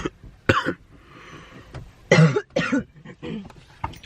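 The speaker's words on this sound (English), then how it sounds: "We up in here coughing." A few sharp coughs nearby, irregular bursts with short pauses and some quiet throat sounds between them.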